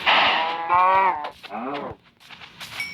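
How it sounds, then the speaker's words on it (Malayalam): Minecraft cow in a survival game gives two or three close, drawn-out moos in quick succession, clear and alone with no talk over them. "ഇവിടെ 4 പശു."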